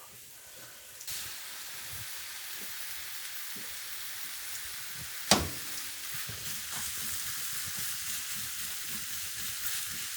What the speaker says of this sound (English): Now I'm gonna throw in our breakfast sausage as well.